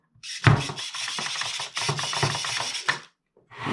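A small RC car steering servo, on a Losi XXX-S, whirring in quick mechanical bursts, loud and close, with brief clicks and a pause before it starts again.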